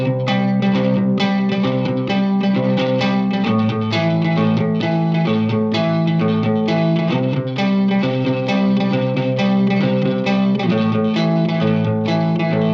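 Distorted electric guitar plays a verse pattern on A without the turnaround, a steady repeating picked riff with chorus and reverb, loud and up close throughout, no voices.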